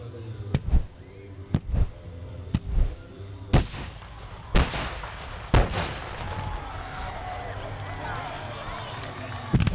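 Fireworks booms from a finale display, a series of sharp separate blasts spaced roughly a second apart and then a denser crackling rumble, with people talking underneath.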